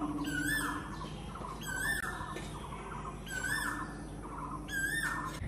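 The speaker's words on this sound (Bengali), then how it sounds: "তোমরা শুনতে পাচ্ছ কি সুন্দর কোকিল পাখি ডাক দিচ্ছে" An Asian koel calls repeatedly from some distance, rising two-note whistles recurring every second or two over steady background hum, with no talking.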